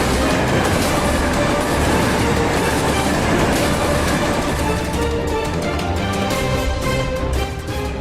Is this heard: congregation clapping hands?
no